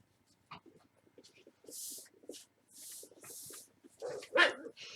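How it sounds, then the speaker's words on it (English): Dogs playing together indoors, giving a few scattered short barks and yips that build toward a louder burst at the end, with shuffling and scuffling noises between them and no talking. "The dogs are playing again."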